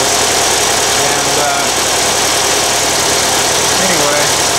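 A carbureted Volkswagen engine runs on an engine stand right after a cold start, idling loud and close in a steady, rough drone with a faint knocking texture; someone speaks over it.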